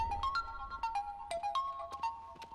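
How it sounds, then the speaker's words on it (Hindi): A phone ringtone plays a repeated melodic electronic tune, moderately loud and steady, from a call by an unknown number in a Hindi film scene, with no talking over it. "किसी का फोन है।"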